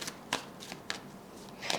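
Oracle cards are shuffled by hand for a tarot reading in a quiet room, several soft riffling bursts spaced unevenly across a brief moment.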